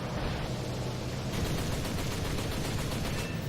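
Enemy gunfire hitting a player's plane in War Thunder, a dense, continuous rattling roar of rapid shots over engine noise, loud and unbroken throughout.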